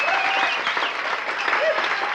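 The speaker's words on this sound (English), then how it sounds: "Fine round of applause for Super Dave Osborne" Brief, dense burst of crowd applause for stunt performer Super Dave Osborne as he gets ready to climb into his car, loud and continuous across the whole moment.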